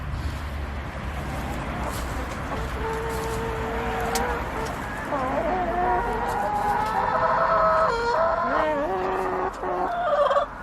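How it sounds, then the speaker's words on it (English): Chickens in a coop at a Mediterranean food forest and market garden cluck and murmur steadily close by, with a few louder squawks building toward the end. "Here are our chickens."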